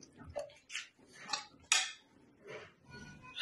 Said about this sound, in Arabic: ناخذ هاد اللحيمات اللي قلينا نص تقليه ونوضعوها في الطاجين بهذه الطريقه هذه